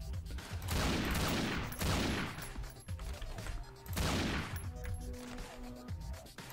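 Loud bursts of gunfire from the shooter game Madness Interactive Reloaded, two dense volleys separated by a brief lull, with ringing echoes and game effects trailing after each salvo, no talking.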